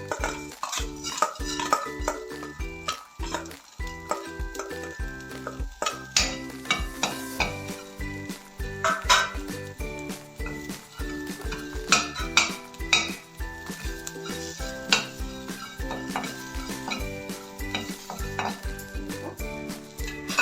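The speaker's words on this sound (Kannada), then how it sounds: "ಇವಾಗ ಎಲ್ಲನೂ ಹುರ್ಕೊಳ್ಳೋದು ಇವಾಗ ಎಣ್ಣೆ ಹಾಕಂಗಿಲ್ಲ ಹಾಗೆ ಹುರ್ಕೊಳ್ಳೋಣ" Ingredients for a Malnad-style sambar dry-roasting in a pan with no oil, stirred with a metal spoon that clatters and scrapes rhythmically against the pan in busy repeated knocks over a faint sizzle.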